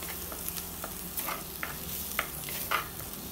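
Curry leaves and chopped green chilli sautéing in hot oil on a gas stove for an egg malai curry, a steady close sizzle with intermittent scraping stir strokes, alone without voices.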